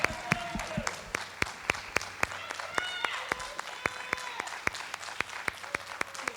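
Applause for a graduating high school class at a 2020 commencement ceremony, a crowd clapping steadily with sharp individual claps standing out, over faint background voices and murmur.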